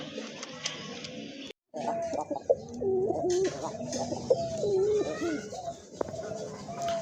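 Pigeons coo in low, repeated throaty phrases close by at a pigeon farm, with brief chatter and background bustle around them.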